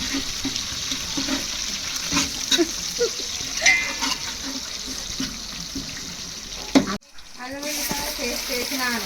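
Mutton curry being stirred in a pot, Telangana style, with wet scraping and sloshing that runs steadily, broken near the end by a short gap before the stirring resumes; faint voices murmur underneath.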